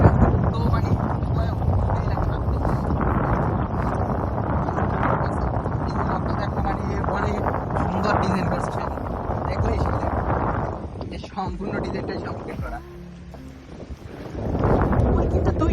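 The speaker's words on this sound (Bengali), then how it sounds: "এটা জাহাজ যাইতেছে" A ship passes on a river, giving a continuous low rumbling drone mixed with heavy wind buffeting on the microphone. The sound eases briefly near the end, then swells again.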